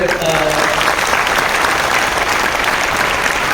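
Loud, sustained applause from a large crowd at an RCM business seminar, a dense wash of clapping that carries steadily from start to finish.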